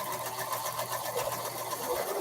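A sewing machine runs in a quilt shop with a steady, fast mechanical whir and rapid needle clatter, unbroken and close.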